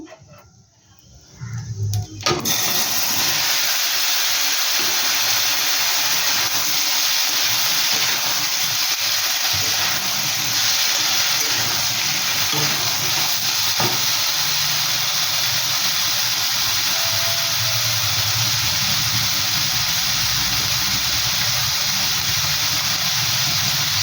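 Mango pieces drop into hot oil with fried mustard seeds. After a brief quiet start, a sudden loud sizzle takes over and keeps hissing evenly for about twenty seconds.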